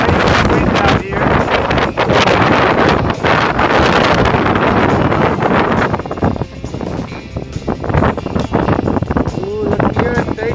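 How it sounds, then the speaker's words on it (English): Strong wind buffets the microphone on a coastal par 3 golf course among dunes and gorse, a loud continuous roar that dominates throughout, with some talk mixed in. "looks like a nice wind out here"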